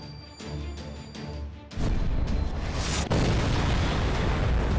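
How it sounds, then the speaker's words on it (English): The Heroic Spirit Cannon fires in the game Fate/Grand Order with a heavy, sustained roaring blast that swells loud, surges again midway and keeps rumbling to the end, following a few softer thuds. "Firing our final weapon, the 7th Link Heroic Spirit Cannon."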